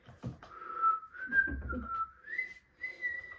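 A person whistles the Harry Potter theme as a clear melodic line of sustained and rising notes, with soft rustling and thumps in between.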